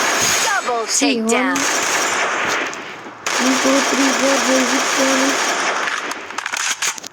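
Rapid bursts of gunfire from a gun in the Free Fire video game, dense mechanical rattling in two runs separated by a brief gap, loud and close, with voices talking over it.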